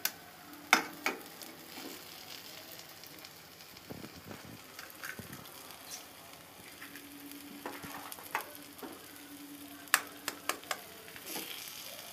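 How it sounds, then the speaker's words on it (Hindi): Masala frying in a pan for an egg Maggi dish, a soft steady sizzle with scattered clicks and scraping stir sounds from a spoon, close and fairly quiet with no talk. "2 मिनट तक मसाला भूनने के बाद में मसाला आपका तैयार रहेगा"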